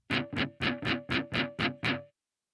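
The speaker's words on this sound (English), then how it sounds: "Muted strums are a simple way to add some rhythm to a song without playing a chord." Eight quick muted guitar strums in an even rhythm, each a short percussive scratchy chop with a faint pitched ring, then silence.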